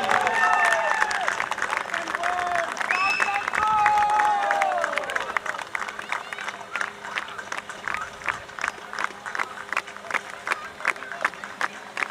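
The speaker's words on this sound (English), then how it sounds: "Big round of applause for Subhojit." An audience applauds at a tournament prize ceremony for the man of the match. The clapping is steady and dense, a voice speaks over it at first, and it thins into scattered claps toward the end.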